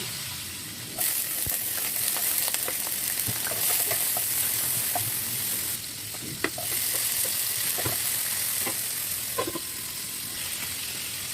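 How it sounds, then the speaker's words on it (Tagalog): Fish sizzles and crackles in hot oil, a steady frying hiss with scattered pops and a few soft stirring clanks nearby. "Habang tayo nag-prito ng isda"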